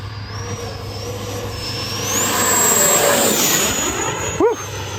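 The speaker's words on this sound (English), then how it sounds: "Flying this jet high alpha right now, guys." An E-flite Viper 70mm RC jet with its electric ducted fan whining loudly overhead, pitch sweeping up and down as it passes close at high alpha, with a brief sharp whoosh near the end.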